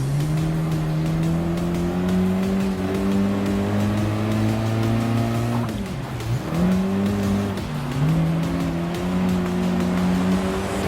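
Racing engines in Gran Turismo Sport, a Lancia Delta four-door on dirt chasing a GTR, droning loud and steady with a brief dip in pitch around a corner and tire squeal, no talk.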